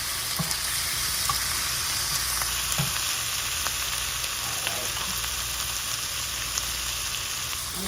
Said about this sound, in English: So it's just gonna give it a stir.